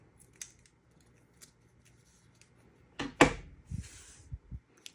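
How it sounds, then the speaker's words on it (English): Scissors snip through folded paper while a snowflake is trimmed, a few quiet clicks and then a cluster of louder, close cuts near the end, with no talking. "And then you just need to trim the bottom."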